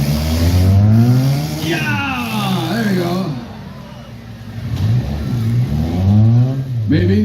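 Demolition derby car engine revving hard while the driver struggles to find a gear, loud rising and falling surges close by, with crowd noise and shouting mixed in.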